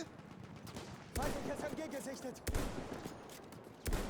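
Gunfire in the video game Battlefield 1: several sharp bursts of shots separated by short pauses, with a voice talking excitedly in between and over the firing.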